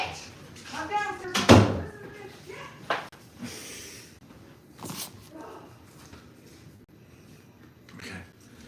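A dog barks in a few short bursts around a household setting, mixed with voices talking and thuds like a door or cupboard banging.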